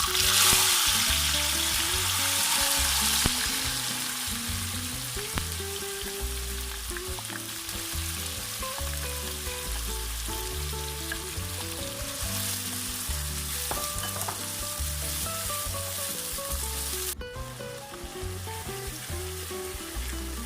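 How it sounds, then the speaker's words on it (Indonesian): Oil sizzles and crackles steadily as sliced chilies fry, a continuous loud hiss with occasional stirring sounds. "Kemudian minyaknya langsung kita gunakan untuk menggoreng cabai irisnya."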